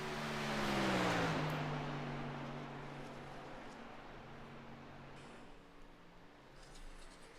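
A racing truck engine in iRacing's Truck Series at Homestead Miami Speedway swells as it passes close by, then fades into a distant, faint drone.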